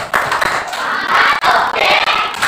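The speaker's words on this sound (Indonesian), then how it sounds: "Kita kasih tepuk semangat lagi, tepuk." A school class claps hands in encouragement, a brief loud burst of rhythmic clapping with children's voices mixed in, lasting a couple of seconds.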